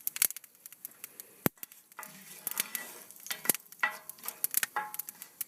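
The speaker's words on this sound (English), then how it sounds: "It's just to fry off the spices, and then we're going to brown the meat as well" Spices for a Durban curry frying and toasting in a hot pot, crackling sizzle with scattered sharp clicks and scraping stirs, close and fairly quiet.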